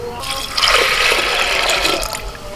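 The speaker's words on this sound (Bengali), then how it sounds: "এর মধ্যে আমি দেড় মগ জল দিয়ে দেবো" Water is poured from a mug into a pot of lentils, chana dal and rajma, making a steady splashing rush for a couple of seconds that tails off at the end.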